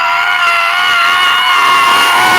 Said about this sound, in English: Someone do like a nostalgia scream.